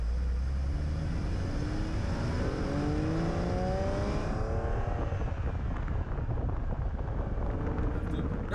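A Porsche sports car's engine drones steadily from inside the cabin while driving at slow speeds, a continuous low rumble with wind noise throughout and no talk heard.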